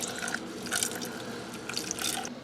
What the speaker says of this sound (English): So I've rinsed out some of the sink